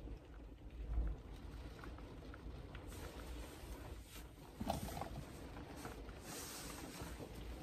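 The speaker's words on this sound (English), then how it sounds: "Rain sounds like in the van." Steady hurricane wind buffeting and a soft, continuous patter of rain on a camper van roof, with a few louder gusts and thumps partway through.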